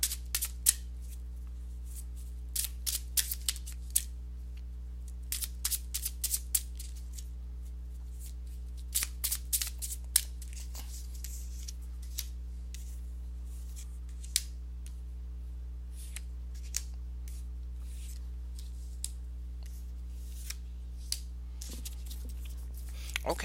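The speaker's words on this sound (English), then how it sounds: "let me go ahead and give these cards a shuffle" Repeated bursts of riffling and slapping as a deck of tarot cards is shuffled, in irregular clusters over a low steady hum, fairly close.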